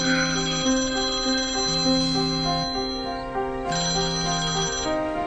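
A mobile phone rings with a repeating melodic ringtone, steady and fairly loud, playing alone for about five seconds without any talk.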